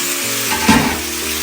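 A NY strip steak sears in hot oil in a cast iron pan, giving a loud broad sizzle with a brief surge partway through, close up and with no talk.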